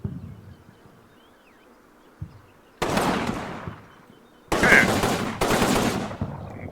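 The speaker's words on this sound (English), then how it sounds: "Italians with some kind of machine gun basically next to my setup zone, next to my mortar battery." Machine gun fire in the Combat Mission: Rome to Victory war game, an Italian machine gun firing near a mortar battery: loud rattling bursts that come in two separate spells, with quiet gaps between them.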